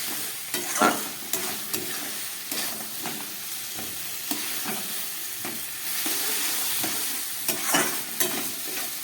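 Cabbage, peas and potato are stirred and fried in a pan for a vegetarian dish, a steady close sizzle broken by repeated scraping stirs of the spoon.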